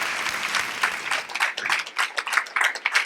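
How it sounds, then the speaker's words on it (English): An audience applauds at a 2019 film premiere, a burst of close, uneven clapping lasting a few seconds with a few louder individual claps standing out. "let's give them another round of applause."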